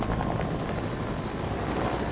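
Helicopter in the Fortnite video game flying steadily, with a continuous rotor whir and engine hum held at a moderate, even level for a couple of seconds without talk.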